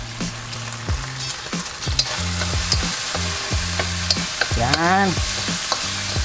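Ground pork or beef fries in a pan for bagoong fried rice, a steady close sizzle with repeated scraping and tapping of the spatula as it is stirred, plus a brief tonal squeak midway.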